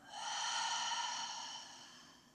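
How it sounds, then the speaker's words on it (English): A single deep breath out during a yoga exercise, a soft airy exhale that swells quickly and fades over two seconds, close and gentle with no words. "Take a breath in. Breath out."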